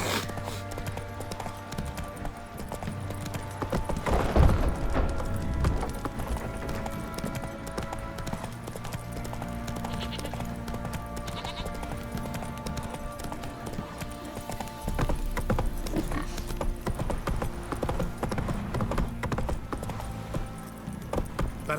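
Hooves of a horse gallop steadily in The Witcher 3, a continuous rhythmic clip-clop close by over game music and ambience, with no talking.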